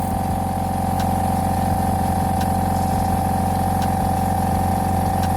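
A Lakoni Basic 9S air compressor runs continuously while pumping its tank toward 8 bar, giving a steady, loud, close mechanical hum with a fast pulsing throb.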